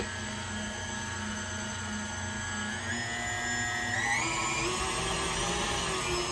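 An electric mixer beats sour cream pound cake batter in a steady, close whine, its motor pitch rising partway through as the speed changes, with no voices.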